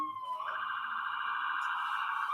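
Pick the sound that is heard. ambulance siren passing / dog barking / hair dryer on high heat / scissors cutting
ambulance siren passing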